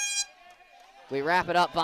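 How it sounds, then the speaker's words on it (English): A blaring air horn with steady harmonic tones opens the clip at a high school soccer semifinal, then fades, followed by loud shouting voices and crowd noise. "Let me wait for the air horns to stop."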